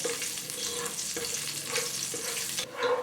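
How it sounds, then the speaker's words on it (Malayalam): Cashews and raisins fry in ghee, a steady close sizzle with a couple of short stirring scrapes in the pan and a louder bubbling burst near the end. "കശുവണ്ടി ഒന്ന് കളർ മാറി തുടങ്ങുമ്പോൾ ഇതിലേക്ക് നമുക്ക് 2 ടേബിൾ സ്പൂൺ കിസ്മിസും കൂടെ ചേർത്ത് നന്നായിട്ട് വറുത്തെടുക്കണം"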